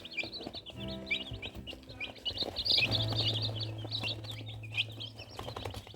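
Three-day-old chicks of mixed breed give a steady stream of high, rapid peeping chirps, close and overlapping, with a low hum running underneath and no talking.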